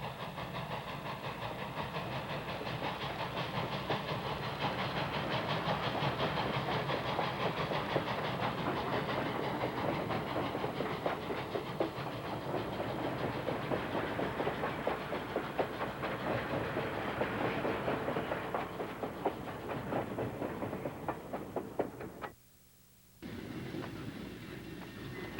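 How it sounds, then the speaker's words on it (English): ET&WNC Tweetsie narrow gauge steam train rolling with a string of cars, a steady close rumble of wheels, clanking and hiss continuing throughout, briefly cut near the end. "The train has picked up more cars."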